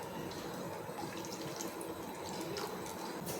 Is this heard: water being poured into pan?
yes